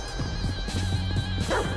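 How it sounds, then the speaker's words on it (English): A dog in Grand Theft Auto V barks in a quick series of short, sharp yaps, close and fairly loud over a steady background hum, with a brief higher cry at the end. "Put that dog on a leash!"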